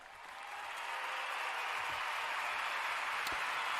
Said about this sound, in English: Give me my applause, Mr. Producer